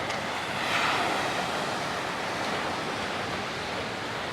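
Surf washes onto the sand at the beach near Paphos, Cyprus, as a continuous broad rush that swells slightly early on and then holds steady, heard from close by with no voices.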